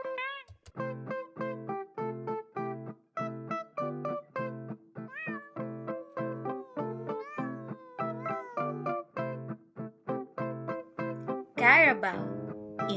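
A cat meows once, briefly and close, near the end, standing out over steady, rhythmic background music that fills the whole stretch.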